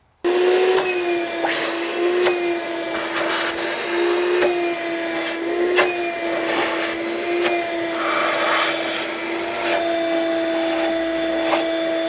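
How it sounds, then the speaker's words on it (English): A shop vac running continuously while cleaning the engine intake ports of a G37 during an intake install, a loud steady whine with pitch shifting slightly as the nozzle moves. "shop vac, vacuum, just always a good idea."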